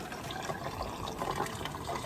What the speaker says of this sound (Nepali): यसरी पाइपमा आएको पानी खानुको मजा